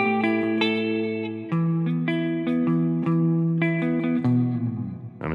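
Clean electric guitar in drop D through a NUX Mighty Plug Pro with damp reverb, playing sustained chords and single notes that ring and overlap in a steady phrase, close and alone.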